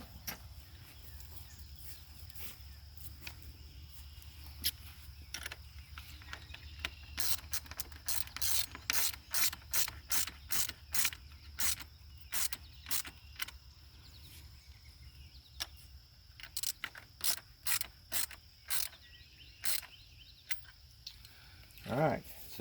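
Ratchet wrench tightening bolts on rigid PVC fence gate hinges: fast series of sharp metallic clicks in bursts, close and clear, over a low background hum.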